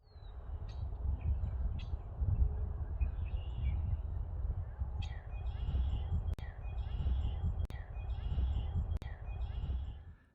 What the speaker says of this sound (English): So that was the call of the male red-winged blackbird.